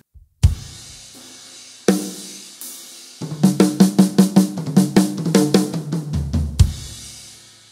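Fast rock drum fill from a song, mixing 32nd and 16th notes: a few separate hits, then a dense, loud run of rapid snare and tom strokes closing on a crash, played alone with no talking.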